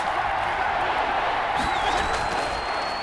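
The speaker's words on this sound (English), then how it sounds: "And this crowd urging on their defense. They're up and making noise." A big NFL stadium crowd roars steadily and loudly throughout, cheering on the defense at Washington vs Carolina, a continuous wash of noise with a thin whistle-like tone rising near the end.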